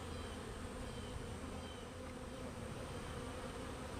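A honey bee swarm festooning across the comb makes a dense, steady buzz of many wings, close and continuous throughout with no voices.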